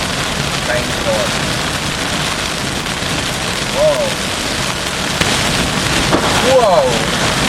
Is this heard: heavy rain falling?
yes